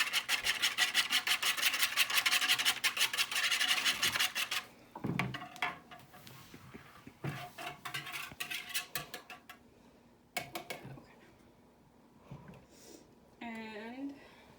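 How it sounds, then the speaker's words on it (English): Oreo cookies being crushed, a gritty rhythmic crunching and rubbing that is strong at first and then comes in scattered bursts, with people talking over and between the crushing. "I'm going to continue to crush up the Oreos"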